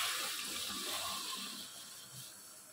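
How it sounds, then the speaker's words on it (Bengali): Water pours steadily into a pan of tangra fish curry with potatoes, a continuous splashing gush that fades slightly toward the end, with no voices. "যতটা ঝোল হবে ততটা আন্দাজে জল দিয়ে দেবো"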